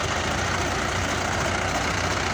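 A tractor engine idles close by, a low, steady, heavy rumble with no voices or changes in pace, at a sugarcane haulage with two tractors hitched in front.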